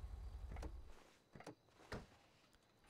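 A car door in the GTA video game thuds shut several times in a row as characters climb out, with short clunks spaced about half a second apart at moderate volume and no talking.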